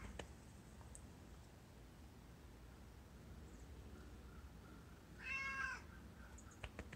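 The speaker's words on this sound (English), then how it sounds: "Anise, you're the noisiest cat in the world." A single noisy cat gives one clear, fairly close meow near the end of a quiet room, with a few faint clicks around it.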